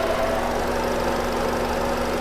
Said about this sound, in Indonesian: Nah, ini kondisi mesin saya nyalakan dari tadi.